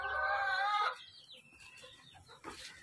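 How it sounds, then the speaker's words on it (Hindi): Hens cluck loudly and steadily at close range while waiting to be fed, then fall quieter with scattered softer clucks and faint farmyard noise. "बाकी ये मुर्गियाँ अपने खाने के इंतज़ार में, अभी इनका टाइम नहीं होया खाने का"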